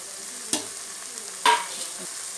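Soybeans stir-fry in a pan with curry leaves and green chilies, with a low background sizzle and two or three short, sharp stirring scrapes close up.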